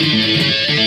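A fast run of distorted electric guitar notes with pull-offs from an interlude, loud and close, with the notes shifting in quick succession and no voices.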